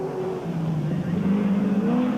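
Touring race cars at the 1993 Australian Touring Car Championship round in Adelaide pass after the finish, a steady close engine drone with rising and falling pitch as they go by, no talk over it.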